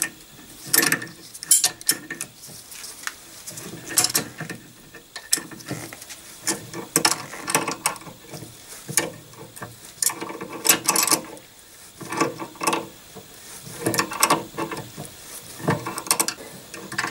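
Metallic clicking and ratcheting of a wrench tightening a brake hose fitting on a 1954 Panhard Junior, close and busy, in uneven bursts with brief pauses and no talk.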